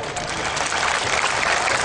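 Audience applause at an Islamic sholawat gathering in Ringinagung, a dense, steady wash of clapping filling the space without a break.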